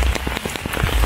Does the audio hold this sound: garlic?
no